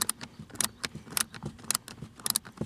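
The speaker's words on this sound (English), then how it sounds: "It's a little slim ratcheting bit holder. It's pulling it though." A slim ratcheting bit holder clicks in quick bursts while loosening a bolt during engine and cabin air filter work on a Ford Fiesta, sharp metallic ratchet ticks close up in an irregular rhythm.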